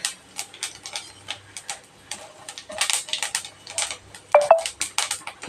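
Fennel seeds sputter and pop in hot oil, giving a scattered stream of small crackles and ticks with a few sharper snaps near the end.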